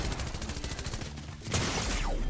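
Rapid gunfire from a Fortnite match, a dense burst of repeated shots at steady loudness followed by a sharper, louder volley near the end, with no talk.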